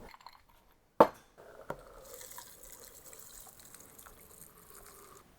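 A cocktail is poured into a rocks glass over ice. It opens with a single sharp clink, then a faint, quiet trickle of liquid that runs on steadily.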